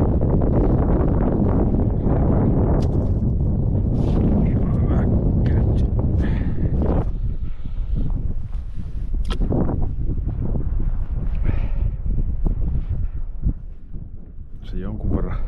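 Strong, gusty wind on an ice-fishing outing buffets the microphone in heavy low rumbles that ease and return, with a few faint knocks and rustles.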